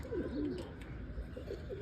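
Pigeons coo softly in a loft, a few low, rolling coos repeating faintly in the background.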